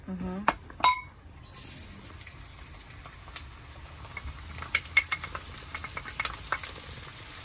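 Garlic cooks in oil in a hot pan with a low crackling sizzle and scattered sharp pops, after a few clinks of a utensil against the pan at the start, and a voice briefly heard early on.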